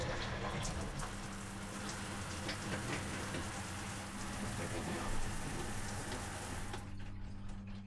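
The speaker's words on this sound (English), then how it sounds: "now let's test the rain shower." Water sprays steadily from an overhead rain shower head in a boat's bathroom, a close, even hiss that cuts off near the end.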